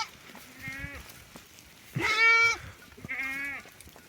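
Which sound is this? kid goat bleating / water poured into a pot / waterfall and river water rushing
kid goat bleating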